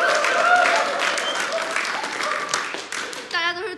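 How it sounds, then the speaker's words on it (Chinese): An audience applauds to welcome a newly appointed company supervisor, a steady wash of clapping lasting a few seconds before it fades and a voice begins speaking. "大家鼓掌欢迎。"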